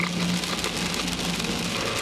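Steady rain patters and hisses around a vehicle during a storm chase on an Overland Park highway, a dense, even wash of sound with a low road rumble underneath.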